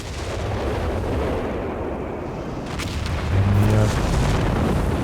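Artillery rumbles through a Company of Heroes 3 battle, with dense low booms and a steady wash of distant gunfire, and a heavier blast rolling in near the end.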